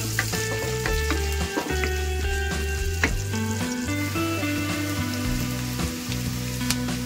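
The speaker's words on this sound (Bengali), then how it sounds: "এবার আমি একটু ভালো করে ভাজা ভাজা করে নিচ্ছি।" Chopped onions frying with black cumin seeds in hot oil, a steady close sizzle with bursts of stirring and scraping in the pan.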